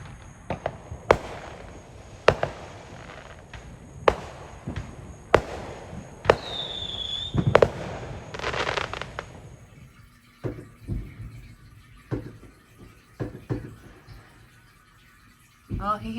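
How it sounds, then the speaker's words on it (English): July 4th fireworks go off outside, sharp booming cracks every second or two, fairly close, with a whistling burst partway through and fainter pops later in the quiet. "Not sure if you can hear the fireworks."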